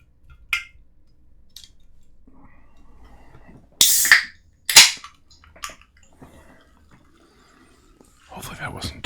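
A cold can of tropical 7-Up zero sugar cracked open close up, a sharp pop and hiss followed by a second fizzing burst, then faint bubbling in a quiet room.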